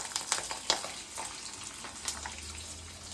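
Curry leaves going into hot oil for mango methi chitranna, giving a soft, steady frying crackle with a few sharper pops and a faint low hum beneath, no voices.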